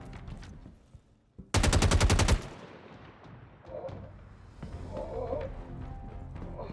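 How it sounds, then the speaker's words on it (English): A short burst of rapid gunfire in the video game Star Citizen rattles loudly for about a second, then fades into quieter game ambience and scattered noises. "I just heard some gunfire"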